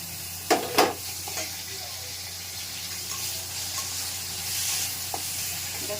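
Chicken pieces tipped into a hot pan, a couple of sharp clattering knocks at the start followed by a soft steady sizzle of frying, fairly quiet and close.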